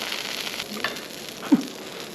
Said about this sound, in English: You see it cooking inside the meat there, all bubbling and boiling away.